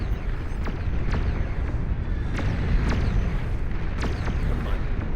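Dozens of Titan robots fire in the Beyond All Reason strategy game, a rumbling battlefield bed broken by repeated sharp cannon blasts at irregular intervals, some close and punchy, others farther off.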